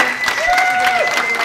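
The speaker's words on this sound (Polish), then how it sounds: "Wielkie brawa." Spectators at the final of a squash open tournament applaud in a steady, dense wash of clapping that holds evenly throughout, with a thin sustained tonal whine running beneath it.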